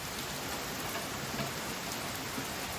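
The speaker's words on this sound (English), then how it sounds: "the rain is really coming down now" Heavy rain pours steadily onto a garden with cucumber containers, a dense, continuous hiss of drops hitting surfaces close by, unbroken for the whole stretch and with no voices.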